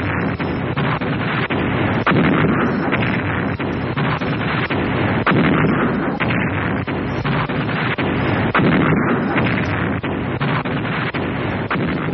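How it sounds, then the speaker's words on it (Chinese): An artillery barrage pounds the Songshan positions, with massed guns laying down area destruction fire on the hilltops during the Battle of Songshan. Dense, continuous booms and cracks overlap in a loud, chaotic roll, and sharp individual blasts punctuate it every second or so. "下令炮兵集中火力攻击松山、大垭口、滚龙坡，实行区域性破坏射击"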